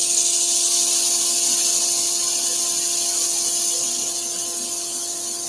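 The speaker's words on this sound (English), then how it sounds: "So we've got that dust going nicely down the extractor there." A dust extractor draws sanding dust while wood is sanded during woodworking, a steady airy whoosh with a faint hum, gradually easing slightly over several seconds.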